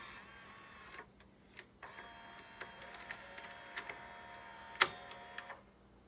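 A JVC Hi-Fi VHS HR-D470U VCR struggles to fast forward and feed a tape, giving faint mechanical whirring with scattered ticks and clicks, one sharp click near the end, then quiet.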